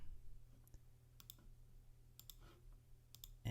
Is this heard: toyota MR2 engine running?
no